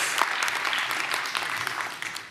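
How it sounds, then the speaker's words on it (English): An audience applauds at the close of a final debate at a festival event, with dense, moderately loud clapping sustained throughout the brief moment and no clear voices. "please let's go out with one big round of applause for everyone that I have just thanked right now"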